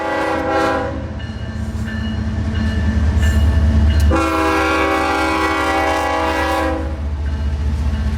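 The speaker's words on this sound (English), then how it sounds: "A 7-car juice train, and a casual chase up the Palmetto subdivision with 2 more of those beloved Gevos pulling." A seven-car freight juice train pulled by GE Evolution locomotives rumbles past close by on Florida's Palmetto subdivision, its horn blaring in long sustained blasts over the heavy roll of the wheels.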